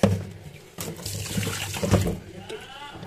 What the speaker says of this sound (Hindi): इसको अच्छे से वॉश करेंगे पानी में